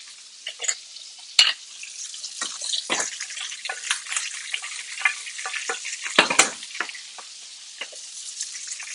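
Mushrooms fry in melting butter in a pan, giving a bright continuous sizzle with crackles and a few louder scrapes and knocks as they are tossed, close up.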